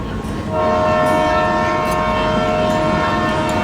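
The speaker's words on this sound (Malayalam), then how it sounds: "ദാ വരുന്നു നമ്മുടെ ട്രെയിൻ, എറണാകുളം നിസാമുദ്ദീൻ നസ്രത്ത് എക്സ്പ്രസ്" An Ernakulam–Hazrat Nizamuddin express train pulls into a station, sounding a loud, sustained horn blast over the heavy rumble of the approaching locomotive and coaches. No voices can be heard.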